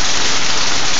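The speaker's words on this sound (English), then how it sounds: "we're suddenly getting sleet or hail or one or the other" Hail and sleet falling hard outdoors during a short January storm in Warren, Massachusetts, a loud, dense, continuous hiss of small ice pellets hitting the ground.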